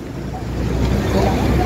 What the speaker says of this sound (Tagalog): Lakas na ng hangin dito sa amin.